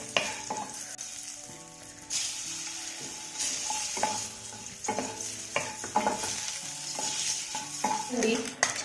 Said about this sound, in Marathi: यामध्ये आपल्याला उकडून घेतलेली अंडी फ्राय करून घ्यायची आहेत